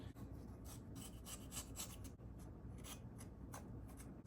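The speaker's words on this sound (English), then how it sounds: "I'm gonna scrape that off and then clean the surface a little bit." Old gasket compound is scraped off the metal surface of a 1983 Evinrude 15 HP outboard motor, giving a steady, close rasping scrape in repeated strokes with no talking.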